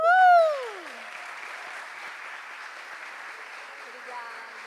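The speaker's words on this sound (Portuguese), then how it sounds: "Aplausos." An audience at a literary panel event claps in a soft, even round of applause, preceded by a brief voice at the start and continuing quietly to the end.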